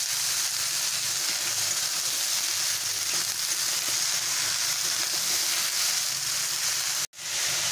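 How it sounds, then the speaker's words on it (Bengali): Bottle gourd fries in a pan with a steady, even sizzle throughout, close and unbroken apart from a brief cut near the end. "লাউটা আমার ভাজা হয়ে গেছে।"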